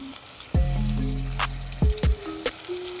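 Shrimp fry in reused grease in a pan, a close crackling sizzle with a few sudden louder spits and pops as pieces settle into the hot oil.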